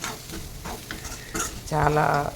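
A broad bean curry sizzles in a pan while a utensil stirs it with quick, uneven scrapes. Near the end comes a short louder burst with a clang, and faint talk can be heard in the background.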